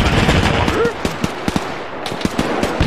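Bursts of rifle and machine-gun fire in a WWII-era Arma 3 battle for Berlin, sharp repeated cracks at irregular intervals, some close and loud, others more distant, with a voice briefly audible early on.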